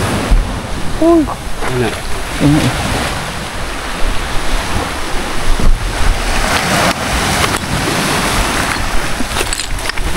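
Sea waves building and surging in a steady, loud broadband wash with wind buffeting, and a voice speaks briefly near the start.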